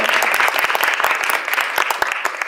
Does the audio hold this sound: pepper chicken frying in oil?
no